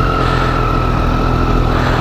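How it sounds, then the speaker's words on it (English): A 2017 Triumph Street Triple RS motorcycle runs with a steady high-pitched engine whine over a dense, loud mechanical rumble, constant and close, no talk. "First thing you notice, that Triumph whine. Listen to that."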